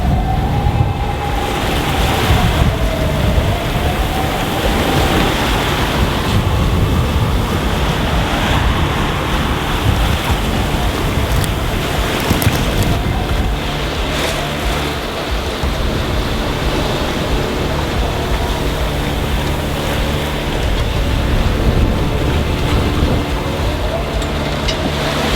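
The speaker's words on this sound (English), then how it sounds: "Those waves are fully capable of crashing into their cockpit." Ocean waves rush and break around a small boat in sunny but rough conditions, producing a loud, continuous wash and surge with wind noise and no voices throughout.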